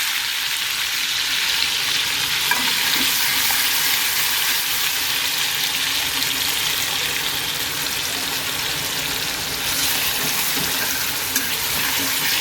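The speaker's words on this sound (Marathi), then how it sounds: "चला तर आपण सर्वात आधी असा चॉप केलेला कांदा घालून घेऊया." Chopped onion sizzles in hot oil in a kadhai, a steady, dense frying hiss that holds loud and even throughout with faint stirring clicks underneath and no voices.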